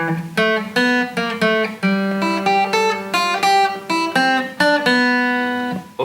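Guitar plays the opening four-bar section of an intermediate-level piece, a steady run of clearly plucked notes and chords ringing close and loud, with no talking.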